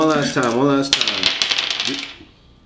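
Dice tumble and clatter in a quick run of sharp clicks that fade out, right after a voice talks briefly at the start.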